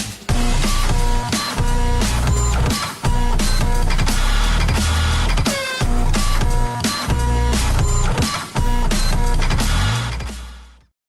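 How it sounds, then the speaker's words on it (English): A printer with a paper jam runs loudly for about ten seconds, giving repeated mechanical clunks, whirs and feed rattles in an uneven rhythm before stopping. "Printer, jam."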